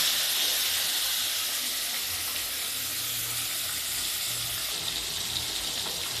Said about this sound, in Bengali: আমার তেল গরম হয়ে গেছে, দিয়ে দেবো মাছ।